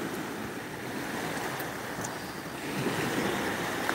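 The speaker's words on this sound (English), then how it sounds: "I see the waves are coming up" Gulf of Mexico surf rolls onto Pensacola Beach in a continuous broad wash of breaking waves, steady and fairly loud with some wind buffeting the microphone, no voices.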